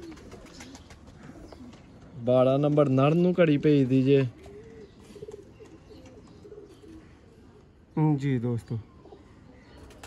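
A pair of pigeons coo in two bouts, a longer rolling stretch followed by a shorter one, loud and near while someone talks steadily throughout.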